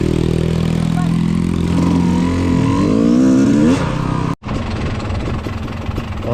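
Motorcycle engine on a dirt trail revving and rising in pitch for several seconds, then cutting out abruptly before idling again unevenly, loud and close.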